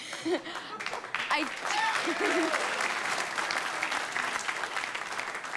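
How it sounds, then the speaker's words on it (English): A studio audience bursts into applause with some laughter on a TV talk show, building within the first two seconds into steady, full clapping that holds to the end, with voices briefly heard at the start. "clap for the naked body"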